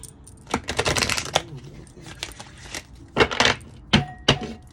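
A deck of oracle cards being shuffled by hand, in a run of crisp riffling clatters early on, then a few separate card slaps and flicks, close and clear with no talking.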